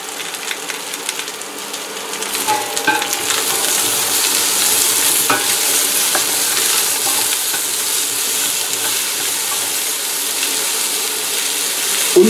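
Steady crackling sizzle of vegetables, including carrots, frying in a hot pan for noodle soup, with occasional scraping and clinks of stirring, continuous and close.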